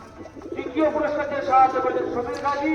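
Teddy pigeons coo in a loft with soft, repeated throaty calls that rise and fall, while someone talks over them.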